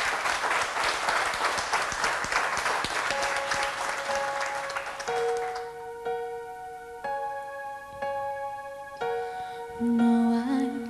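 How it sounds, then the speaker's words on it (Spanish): Audience applause for a singer at a live music event, a dense wash of clapping for about five seconds that gives way to sustained piano-like chords and a voice starting to sing as the clapping fades. "Así que fuerte aplauso"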